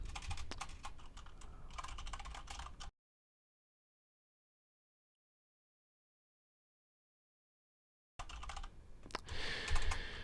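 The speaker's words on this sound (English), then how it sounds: "And now I'm going to do some typing." A computer keyboard typed on about a foot and a half from the microphone in an extremely noisy room gives dense, rapid clicking, loud and close, in two bursts broken by a long stretch of total silence.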